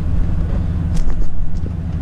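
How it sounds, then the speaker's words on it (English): A truck engine idles in a snowy parking lot during a lawn care snow-plowing job, giving a steady low rumble that stays close and fairly loud with no talk over it. "I'm going to just leave the truck running here."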